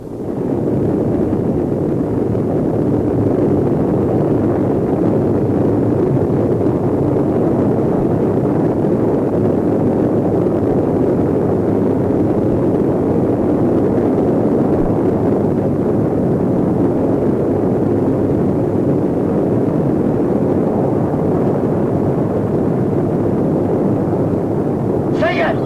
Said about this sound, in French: Le moteur atomique vient de se mettre en marche.